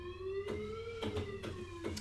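A rising and falling siren-like synth tone in a song, a sustained wailing pitch that bends slowly up and back down, punctuated by short percussive hits from the track underneath.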